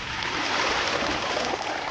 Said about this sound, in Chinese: 先倒水。